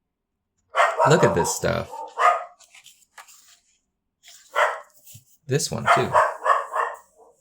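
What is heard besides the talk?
dog barking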